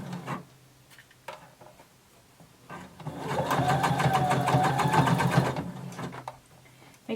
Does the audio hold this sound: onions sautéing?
no